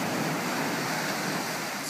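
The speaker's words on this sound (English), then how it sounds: "Love that sound of the water going back into the ocean." Ocean waves washing up and drawing back on a beach at Laguna Beach, a continuous hissing, rushing wash heard up close with some wind buffeting the microphone.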